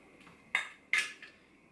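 A metal spoon is handled, knocking twice against a hard surface with bright ringing clinks, plus a fainter tap before and after, in an otherwise quiet room.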